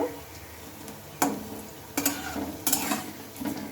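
Jute-leaf balls sizzle in a little hot oil in a pan with a steady crackle, broken by a few sharp scraping stirs against the pan.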